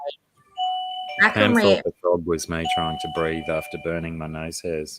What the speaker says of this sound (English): That's my doorbell, how my parents call me when they need my help.